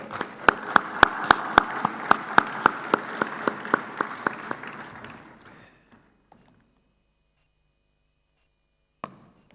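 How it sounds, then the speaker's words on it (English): Audience applause in a conference room at an Africa summit as a Development Bank Ghana board member walks up: one or two loud, sharp claps in steady rhythm over a crowd's clapping, fading out around five seconds, then quiet with a lone late clap. "She likes to hear the applause when she's walking"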